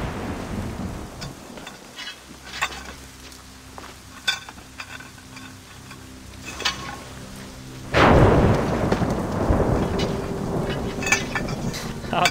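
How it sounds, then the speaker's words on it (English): Thunderstorm in Assassin's Creed Rogue: a steady roar of rain with low rolling rumbles, then a loud, close thunder crack near the end that keeps rumbling through the rest of the clip. "A storm though, going crazy, which is good because we need the lightning"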